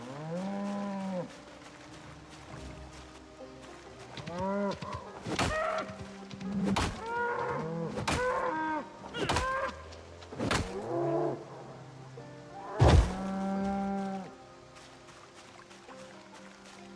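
Cattle mooing in a video game, several drawn-out lowing calls spread across the stretch, mixed with sharp thuds and thunks from the game, some near and loud.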